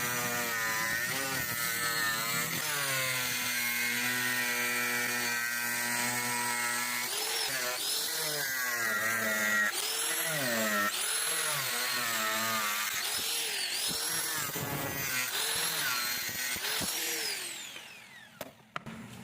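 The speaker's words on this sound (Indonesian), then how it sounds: "kita potong menggunakan mesin gerinda ya" An angle grinder cuts through acrylic sheet with a loud, steady high whine and a gritty cutting rasp. The pitch dips and recovers as the disc bites, then the tool spins down near the end.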